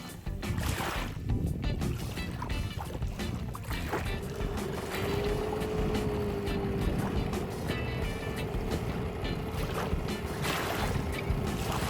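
A small boat with a new motor is eased into shallow water off a shore on the Tiligul estuary, bringing steady broadband wash and wind rumble throughout, with a faint low tonal hum rising midway.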